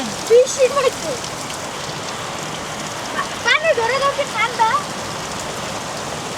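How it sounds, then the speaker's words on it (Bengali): Steady rain patters down across the whole stretch, with a few bright chirpy sounds, likely birds or children's voices, popping up over the wash. "গৃহবন্দী সাইফি রাইয়ানের মন খারাপ হয়ে গেছে বৃষ্টি আসার কারণে"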